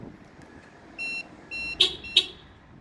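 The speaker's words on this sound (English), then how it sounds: "See, I got 2 honks" Two short beeps, then two sharp, loud honk-like chirps in quick succession from a Subaru's horn as its remote start is pressed twice and fails, against a quiet background.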